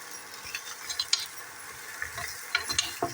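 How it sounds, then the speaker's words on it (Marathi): Sautéing onion in a frying pan for trotter soup: a steady sizzle with a spatula scraping and stirring at irregular moments, close by, no voices. "दोन चार मिनटं चांगलं परतूनच घ्यायचं आपण"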